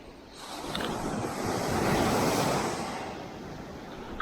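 Waves rolling onto a beach in Costa Rica with wind, a wash that swells to a peak mid-clip and then recedes, moderately loud with no voices.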